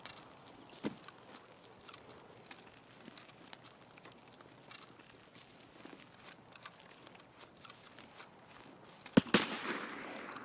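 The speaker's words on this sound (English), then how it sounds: "That's a player shooting us." Gunfire from another player in a survival raid shooter game: a quiet stretch of soft rustling and scattered ticks, then a sudden loud crack followed by a short, close burst of shots.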